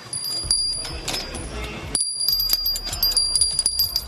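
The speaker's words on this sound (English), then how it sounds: "Well, that's what these bells are there for." Small bells on the harness girth of a show pony at the Royal Show jingle close and loud in quick, repeated shakes, broken by a short pause.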